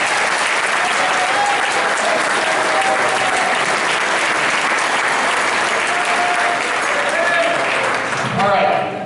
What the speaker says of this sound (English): Please give a big round of applause for Mr.